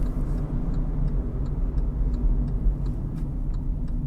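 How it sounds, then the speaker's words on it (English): A steady, low hum from a 2019 Kia Picanto 1.0 three-cylinder engine heard inside the car, constant and fairly loud with faint ticking over it, no talk. "Do like the sound of a 3-cylinder."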